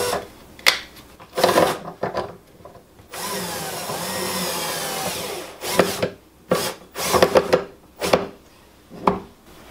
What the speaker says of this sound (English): We're going to mount the screw in the first hole on this runner.